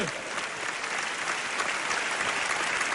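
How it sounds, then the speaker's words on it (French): A television studio audience on Antenne Réunion applauds in a steady, dense, even roar of clapping that holds for the full three seconds. "Applaudissements, mesdames et messieurs."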